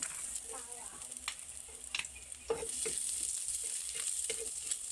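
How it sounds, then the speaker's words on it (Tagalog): Garlic fries in a little cooking oil with a faint, steady sizzle and occasional light stirring clinks, heard quietly and alone. "Lagay tayong konting mantika. Lagay na natin ng bawang."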